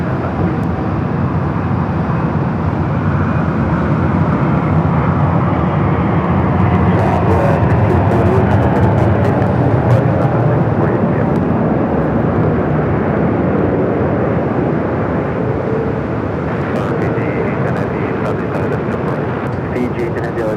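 An Airbus airliner touching down on runway 24 right at LAX, a continuous loud jet roar with broadband rumble that runs steadily throughout, while radio voices talk over it.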